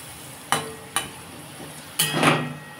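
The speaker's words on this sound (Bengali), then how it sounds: "চিংড়ি মাছ বেশি কড়া করে ভাজবো না, তাহলে শক্ত হয়ে যায়।" Prawns coated in turmeric and chilli frying in hot oil, with a few sharp clacks of a utensil against the pan and a burst of sizzle near the end.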